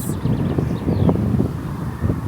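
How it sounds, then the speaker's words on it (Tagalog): Low, blustery wind noise buffets the microphone continuously, rumbling and thumping in uneven gusts. "Mahangin yung video natin."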